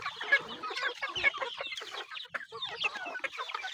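Native chickens cluck and squawk at feeding time, several birds calling in quick overlapping bursts close by, with short sharp notes and scattered clucks throughout.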